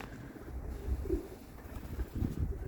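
Pigeons, including young birds, cooing and calling faintly outdoors, soft low coos scattered across a breezy background with light wind noise.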